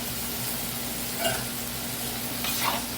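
Pork and ginger stir-fry in a hot pan with a continuous loud sizzle, broken by a couple of clanking spatula stirs.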